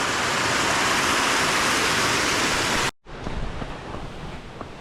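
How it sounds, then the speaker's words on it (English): A flowing creek rushes steadily beside a single-track trail near Payson, Arizona, loud and close at first, then cutting abruptly to a softer, slightly more distant stream of water. "One of my favorite sounds in the world is the sound of a flowing creek."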